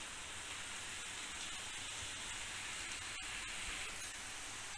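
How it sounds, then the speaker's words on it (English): Peanuts deep frying in hot oil over a medium flame for spicy masala peanuts, giving a steady, loud, close hiss and sizzle of bubbling oil throughout with no voices. "Once the oil is heated, I am adding the peanuts."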